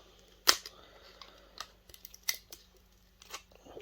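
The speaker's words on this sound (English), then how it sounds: "we just cut into the aluminium to release those screws" Metal snips cut into the aluminium casing of a Hitachi video projector being scrapped, giving sharp isolated snapping clicks, one loud and several softer, spaced irregularly in a quiet room.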